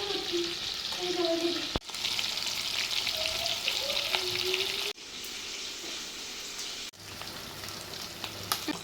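Fish (varal, marinated in ground masala) frying in hot oil, a steady loud sizzle running throughout with brief breaks where pieces are moved or lifted out.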